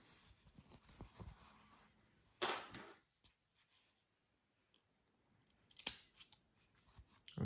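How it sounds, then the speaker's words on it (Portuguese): Scissors cut knitting yarn while a slipper is knitted, making a few quiet, isolated snips separated by near silence, with faint handling rustle at the start. "eu posso cortar este fio de maneira segura"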